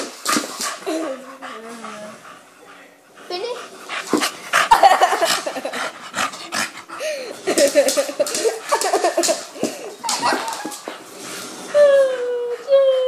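A dog barks, whimpers and pants at close range, with people talking over it for much of the time.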